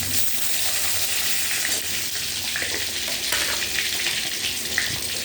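Bay leaves dropped into hot oil just after prawns were fried, giving a steady, close sizzle and crackle that continues evenly throughout with faint stirring.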